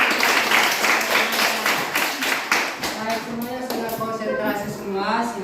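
A group standing up for an ice-breaking clapping game claps in a steady, repeated rhythm, with voices chanting along over the claps throughout.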